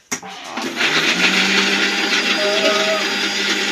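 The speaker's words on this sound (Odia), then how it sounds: "ଅଦା ଆଉ ଜିରା ଗ୍ରାଇଣ୍ଡିଙ୍ଗ କରିବି" Electric kitchen grinder whirring steadily as it grinds ginger and cumin, a loud, continuous high-pitched motor drone starting abruptly after a brief click and running unbroken.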